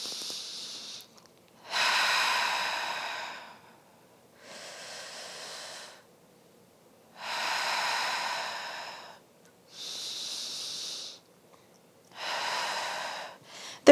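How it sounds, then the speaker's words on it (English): Slow, deep breathing during a postpartum breathing exercise: long airy inhales and exhales alternating steadily with short pauses, close and clear, with no talking. "So I'll do about 10 breaths here"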